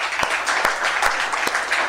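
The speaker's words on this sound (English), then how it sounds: "I think we can clap once for all of you" Audience clapping at an academy e-learning department gathering, a dense, close wash of many hands with a few sharper individual claps standing out, sustained and even throughout.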